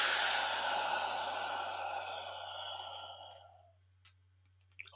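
A long, slow breath out through the mouth during box-breathing practice, close and airy, fading over about three seconds into near silence with a faint click afterward.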